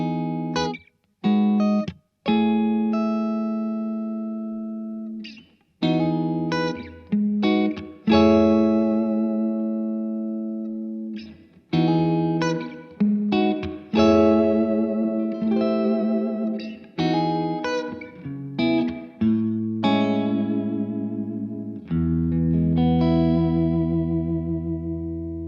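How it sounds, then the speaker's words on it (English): Clean electric guitar through the British clean channel of a Blackstar HT20 MKIII valve amp with its built-in reverb on: picked chords and single notes in short phrases, each ringing out with a lingering tail. No talking. "it's certainly a very, very usable reverb"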